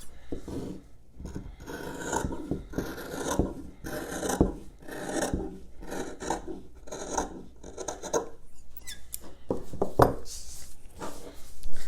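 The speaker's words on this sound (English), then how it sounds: "And now I'm going to cut this in half." Stacked fabric pieces for a plain seam sample are cut in half, giving a close, rasping run of cutting and rubbing strokes that carries on throughout with short pauses between them.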